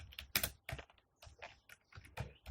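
Quick, irregular clicks of typing on a computer keyboard, close and fairly crisp, with short bursts of keystrokes and brief pauses.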